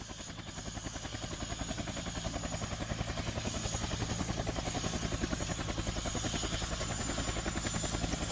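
A Huey helicopter's rotor thumps in a fast, even pulse over a steady engine drone, moderately loud and growing slightly stronger.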